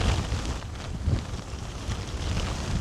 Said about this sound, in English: I can't even hear my own voice, it's so windy